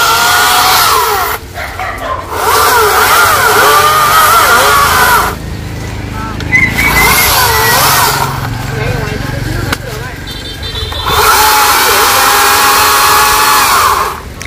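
A chainsaw cutting down a coconut tree in Dong Nai, loud buzzing bursts that rise and fall across the cuts, with idling gaps between them and voices talking nearby.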